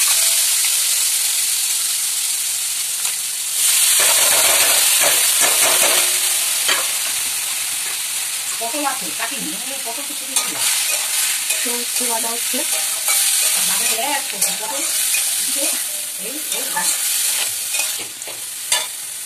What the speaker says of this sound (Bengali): উচ্ছে ভাজা বসিয়েছি